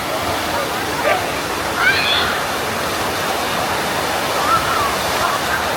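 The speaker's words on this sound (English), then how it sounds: "There's a massive racing water slide." Water rushes steadily down the Naga Racer, a multi-lane racing water slide at Siam Park, a broad continuous wash with faint voices and brief splashes heard at a distance.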